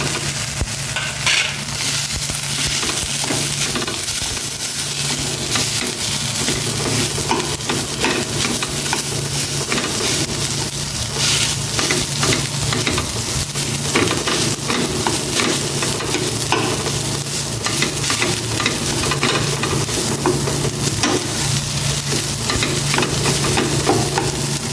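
Cooked rice is stir-fried in a hot pan for a breakfast meal, giving a continuous close sizzle with steady scraping and stirring strokes throughout and no voices.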